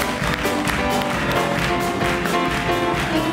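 Audience applause for a band introduced on a late-night Latvian TV talk show, a dense steady patter of many hands clapping continuously throughout, loud and close with no speech over it.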